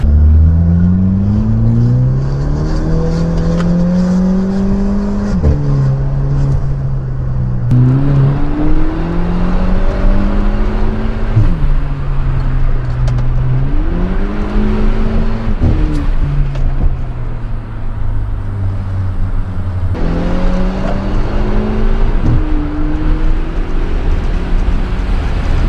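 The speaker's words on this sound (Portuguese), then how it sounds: "Flutter, como eu falei no começo do vídeo, e tem esses pipocos na troca de marcha." A Volkswagen Jetta turbo accelerates hard, its loud, close engine rising in pitch again and again, with short breaks at each gear change where faint turbo flutter and pops come through.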